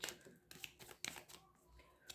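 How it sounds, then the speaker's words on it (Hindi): A deck of tarot cards being shuffled a final time, soft quick riffling and shuffling taps in short bursts, quiet and close. "final shuffle"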